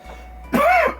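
A single loud, close cough bursts out over a steady low hum, with a short second cough starting right after, while someone works on a 1985 Williams Sorcerer pinball playfield.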